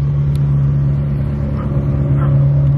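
A Lamborghini Diablo engine idles at a car show as a loud, steady low rumble with a constant hum and slight swells, heard close with no clear talk over it.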